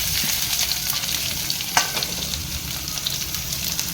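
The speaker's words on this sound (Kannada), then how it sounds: "ಇದಕ್ಕೆ ನಾನು ಒಂದು ಹೆಚ್ಚಿಟ್ಟು ಈರುಳ್ಳಿಯನ್ನು ಹಾಕೊಳ್ತಾ ಇದ್ದೇನೆ" Chopped onion hits hot oil in a pan for South Indian avalakki, setting off a steady, close frying sizzle with a brief sharp crackle near the start, continuing evenly throughout.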